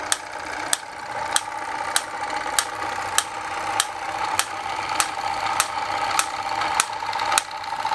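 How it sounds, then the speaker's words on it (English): A modified PM Research glass solar engine, fuelled by methylated spirits, drives a Mamod model workshop. It produces a steady, close mechanical whir with a sharp click repeating evenly about every half second, and no voices. "Very easily running the Mamod Workshop."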